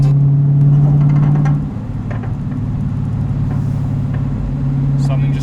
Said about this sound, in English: honestly, the exhaust sounds beautiful